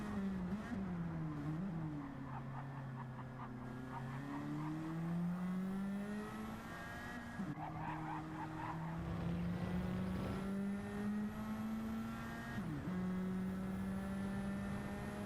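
Race cars in a Nissan Silvia touring championship round in a video game, engines droning steadily at high revs with pitch rising through the gears and dropping sharply at shifts, a continuous loud roar with faint tire noise.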